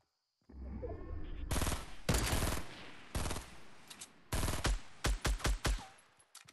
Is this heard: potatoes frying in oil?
no